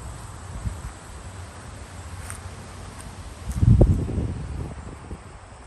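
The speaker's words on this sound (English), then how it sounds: "It's windy." Wind blows steadily outdoors with a constant breathy rush and faint rustling of leaves, swelling into a louder, closer gust and rustle briefly before settling back.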